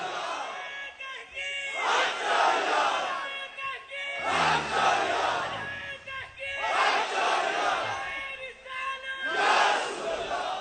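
A large crowd at a Sunni religious gathering chants slogans in loud, rhythmic call-and-response waves, voices rising together in repeated surges and falling back between each shout.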